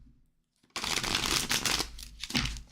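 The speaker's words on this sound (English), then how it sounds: "Big deck, hard to shuffle." A large, oversized Renaissance tarot deck is shuffled up close, a dense riffling rustle that starts abruptly after a quiet moment and continues with brief pauses, loud and unaccompanied by talk.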